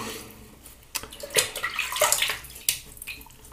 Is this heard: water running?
yes